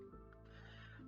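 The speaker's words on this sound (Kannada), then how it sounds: "ಕುದುರೆ" A single horse whinnies in Minecraft, a high wavering neigh lasting about a second, heard clearly and close, with no talk.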